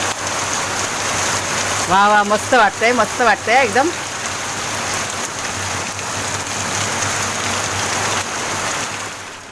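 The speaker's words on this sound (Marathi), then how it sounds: "हा बघा आता ना एकदम जोरदार पाऊस पडतोय बघा" Heavy rain pours steadily, a dense close hiss throughout; someone briefly speaks in an excited tone near the start.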